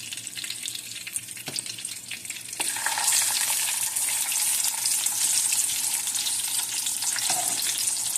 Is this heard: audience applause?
no